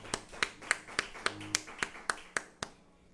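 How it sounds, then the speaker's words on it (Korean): During a Sunday morning church service, sharp hand claps ring out at a steady, even beat, about a dozen in all, fairly faint and slightly reverberant, with a low murmur beneath them. "하나님 앞에 영광의 박수 올려드리겠습니다."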